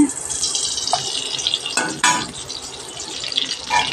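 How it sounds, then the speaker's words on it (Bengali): Oil poured into a kadai over a village cooking fire, with splashing and liquid trickling, metallic clinks of utensils against the pan, and a few soft sharp taps scattered across the pour. "আমি এই কড়াইতে আমি তেল দিয়ে দিচ্ছি"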